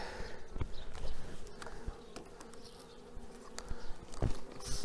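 Honeybees buzz steadily around a nucleus hive in September, a dense close hum with faint scattered knocks and rustles.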